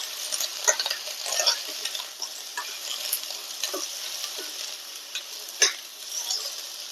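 Beans and potatoes frying in a little oil in a wok give a thin, soft sizzle, with light scraping stirs and occasional clicks of a utensil against the pan.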